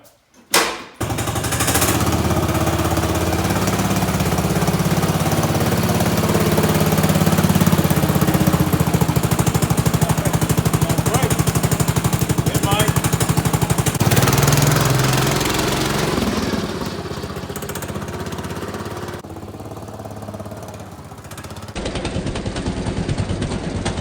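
A racing lawn mower engine roars loudly and steadily while the mower is driven, with a rough, throbbing drone that eases slightly near the end. No speech is heard.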